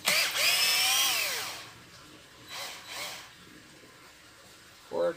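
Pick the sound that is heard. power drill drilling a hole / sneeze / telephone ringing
power drill drilling a hole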